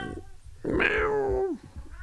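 A house cat gives one long, drawn-out meow that rises and then slides down in pitch. It is close and clear, with soft room sound on either side.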